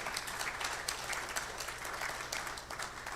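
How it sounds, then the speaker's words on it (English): An audience claps for a professor after an inaugural lecture. The applause is steady and moderately distant, filling the hall for a few seconds. "Yes, a louder round of applause for Professor Douglas Boateng."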